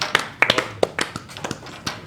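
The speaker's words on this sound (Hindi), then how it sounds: "एक बार तालियां" Scattered, light handclaps from a small group at an Independence Day event in India, irregular and sparse over two seconds, with no one speaking.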